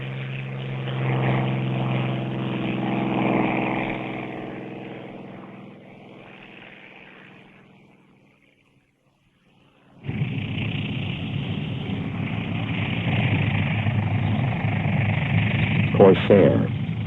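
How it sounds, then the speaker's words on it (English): A Spitfire's Rolls-Royce V12 propeller engine drones loudly, fades almost to silence, then returns with a strong, steady roar as the plane passes close. "And hear the melodic tenor saxophone sound of its Rolls-Royce V12 engine."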